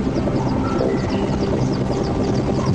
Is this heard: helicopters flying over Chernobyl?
yes